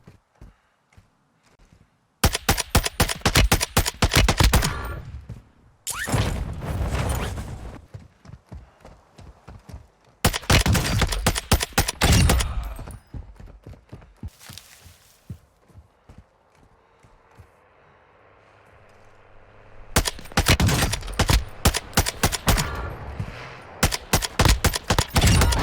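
TAQ-M rifle fire in a Warzone match: several rapid automatic bursts of close, loud shots with brief pauses between, one longer fainter stretch in the middle, then a final sustained burst.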